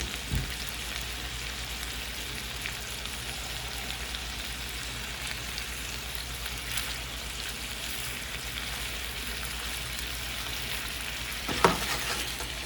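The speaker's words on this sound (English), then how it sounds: "Sizzling merrily." Chicken sizzles steadily in a hot frying pan, a constant crackling hiss with occasional louder pops, close up and uninterrupted by speech.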